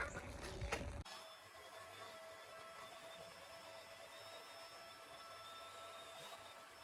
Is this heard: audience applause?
no